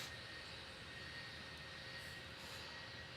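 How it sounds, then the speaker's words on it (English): Airliner taking off on runway 36 right at Cincinnati in a tower simulator game: a steady, broad jet engine roar holds throughout at an even level with no talk over it. "this is Air Shuttle 6016 taking off on runway 36 right"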